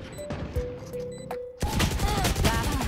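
Gunfire in a tactical shooter game, a sharp burst of shots breaking in after a quieter stretch of faint clicks and beeps, loud and close.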